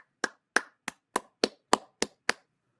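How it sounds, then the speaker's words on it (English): Eight sharp, evenly spaced claps ring out alone in a short round of applause, crisp and fairly close, with silence between each. "I'll give a round of applause for everyone."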